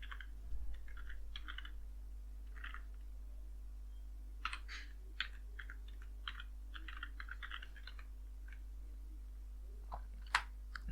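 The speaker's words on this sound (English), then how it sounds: "So I will type repo" Light typing on a computer keyboard while entering text during a Gentoo Linux install, with scattered soft clicks in short clusters over a steady low hum, fairly quiet and with no talking.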